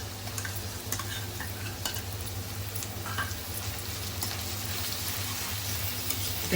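Continuous sizzling as ginger-garlic paste fries with translucent onions in a pan for chicken, with occasional stirring scrapes and faint crackles, steady and close, no voices.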